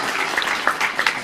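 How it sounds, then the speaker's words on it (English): Audience applause at Cardiff Comic Con, a short burst of clapping from a crowd in a hall, steady and fairly close with a few sharper claps standing out. "I think you should have a round of applause for that."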